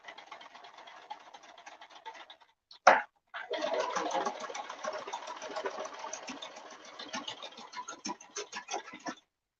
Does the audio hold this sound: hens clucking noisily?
no